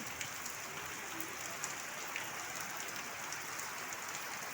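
Heavy morning rain falls in a steady, dense hiss that fills the whole stretch without a break, with no voices over it.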